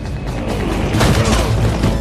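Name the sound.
grenade explosion in an action film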